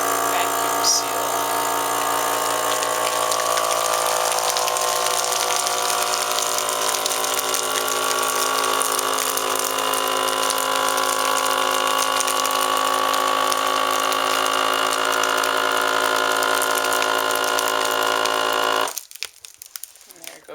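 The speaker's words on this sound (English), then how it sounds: "Vacuum seal." Vacuum sealer drawing air from a bag of dehydrated food, a loud steady mechanical pump drone with a whining tone that runs unbroken for about nineteen seconds, then cuts off abruptly into near silence.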